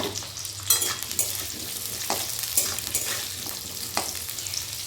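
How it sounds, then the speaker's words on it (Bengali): Cauliflower florets frying in hot oil in a pan for fried rice, giving a steady close sizzle with occasional louder crackles and stirring scrapes. "ফুলকপিটা একটু লালচে করে ভেজে তুলে নেব।"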